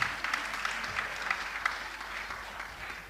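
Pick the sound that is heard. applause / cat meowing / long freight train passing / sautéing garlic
applause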